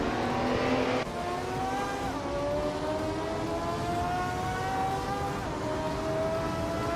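A 1977 Porsche 936 leads a pack of race cars, engines droning steadily with rising pitch as they accelerate, a continuous loud roar of several cars close by with no talk.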